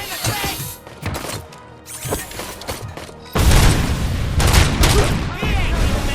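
Heavy gunfire in the RoboCop: Rogue City game, scattered shots at first, then a loud, sustained barrage of bursts and impacts with shouting voices mixed in.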